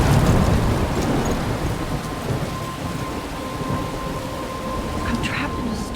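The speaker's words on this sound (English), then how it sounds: "I'm trapped in a storm?" Heavy rain and rolling thunder from a storm in the video game Life is Strange, a dense continuous downpour with a low rumble, loud and close throughout.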